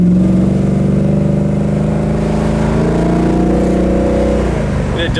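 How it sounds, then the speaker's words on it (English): A 1966 Ford Fairlane with a 390 V8 and dual exhaust, louder than stock, rumbles loudly and close, its deep engine tone rising and falling slightly as it revs before easing off. "Just a little louder than stock, obviously, but he wanted to have a nice muscle car sound with his GTA."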